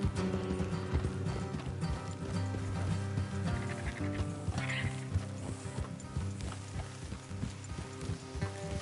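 Horses in the Red Dead Redemption video game, rhythmic hoof clip-clop with a neigh and jingling tack over a layered game score, continuing steadily with no talk.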